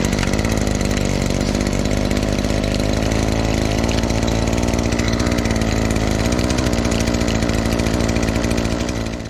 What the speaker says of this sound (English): Once it bumbles a little bit,